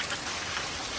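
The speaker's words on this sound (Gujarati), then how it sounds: "બહુ જાજો વરસાદ છે." Heavy rain pours steadily on a village farmhouse during a downpour, a dense, even hiss of drops hitting surfaces close by with no pauses and no voices.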